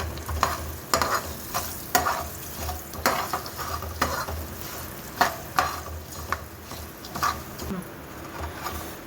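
Hot oil sizzles and crackles as dry red chillies fry in a tempering, while a spoon stirs and scrapes the pan in uneven bursts, with a faint voice in the background.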